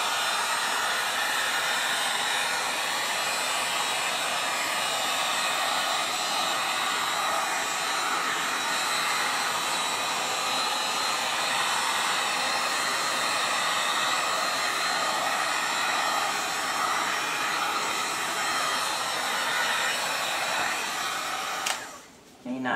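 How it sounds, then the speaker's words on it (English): A heat gun blows steadily over freshly poured purple, red and blue paint, a close, constant airy roar lasting about twenty seconds before a brief handling bump at the end. "my heat gun is so low down there today that I about stuck my face in my painting"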